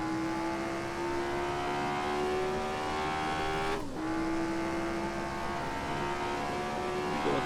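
A race car in the Assetto Corsa racing game, Dream Pack 3, revs hard and climbs up through the gears, with a steady engine whine broken by one sharp shift dip midway, loud and continuous with no talk.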